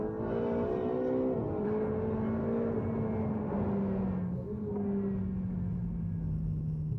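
Ferrari 488 V8 engine droning under way, with the pitch sliding gradually lower as the car cruises at pace, a steady smooth whir with no voices.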